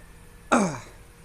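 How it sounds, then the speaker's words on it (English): One short, sharp cough, close and clear, used as a breathing exercise to tighten the diaphragm for singing, starting abruptly and fading within half a second against a quiet room. "do like a little cough kind of motion so you can feel the compression"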